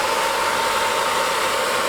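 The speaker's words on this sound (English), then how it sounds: "The other good thing about using a hairdryer is because it's a nice blast of air" A hair dryer blows a steady, loud stream of air, drying sand on a model ruins build. The rushing hiss holds unbroken and close throughout, with no talking.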